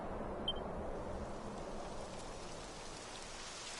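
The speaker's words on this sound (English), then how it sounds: "It would have to go and start raining" Steady rain hisses across the scene in Dragon Quest XI, a dense, even downpour holding at constant loudness throughout with no voices over it.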